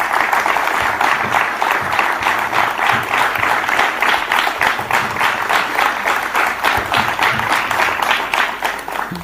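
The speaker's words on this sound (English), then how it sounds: "I request everyone to once again welcome him with a huge round of applause." A large audience at the South Asia Learning Summit 2026 claps continuously, a dense, loud and sustained round of applause with no let-up.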